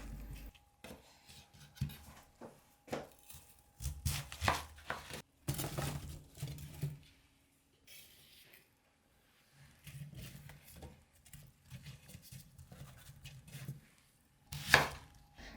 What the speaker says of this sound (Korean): 세네 겹씩 어, 쌓은 다음에 4분의 1쪽으로 잘라줍니다